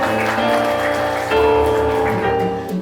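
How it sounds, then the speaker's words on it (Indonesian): Guests at a wedding reception clap together in a dense, steady round of applause over background music, lasting a few seconds. "kita beri tepuk tangan."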